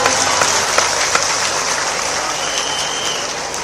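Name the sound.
audience applause at event with CM Mohan Yadav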